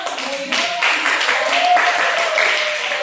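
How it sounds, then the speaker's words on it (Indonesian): A crowd at a school gathering applauding high-achieving students, many hands clapping in a steady patter with a few voices mixed in, moderately loud throughout. "Tepuk tangan dong."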